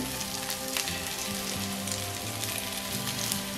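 Egg-dipped sanjeok skewers frying in a grill pan, giving a continuous, close, even sizzle and crackle like light rain, with no talking.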